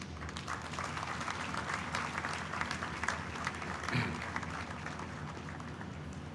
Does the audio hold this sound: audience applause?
yes